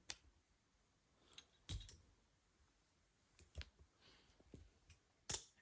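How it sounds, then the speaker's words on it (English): Screws being tightened on a small handheld device: sparse, quiet clicks and scrapes spaced irregularly, with a brief louder snap near the end and near silence between. "Let me just tighten the screws a little more."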